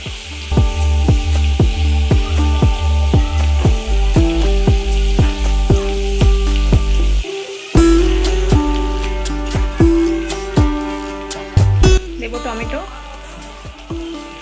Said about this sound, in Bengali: এরপর গরম তেলের ভেতর দিয়ে দেবো আমরা পেঁয়াজ পেঁয়াজটাকে হালকা ভেজে নিতে হবে